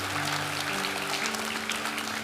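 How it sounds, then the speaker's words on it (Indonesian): An audience at a church service gives a short, dense burst of clapping, steady and fairly soft, with no voices over it. "Nah yang ini perlu ditepuk tanganin."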